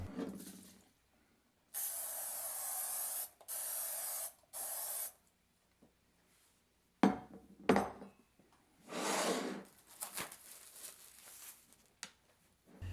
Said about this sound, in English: I'll start by spraying the skillet with no-stick spray